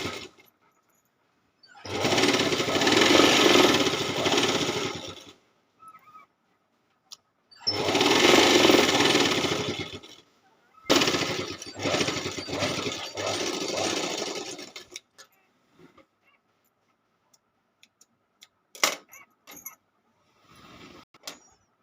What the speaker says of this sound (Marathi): आता ह्या शिलाईच्या बाजूलाच आपल्याला अजून एक शिलाई मारायची आहे